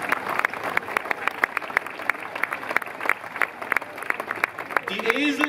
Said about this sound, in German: da spenden wir Beifall gleich mal